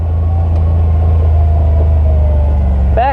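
An old Yamaha motorcycle engine braking in low gear while coasting, a loud steady low rumble that holds throughout.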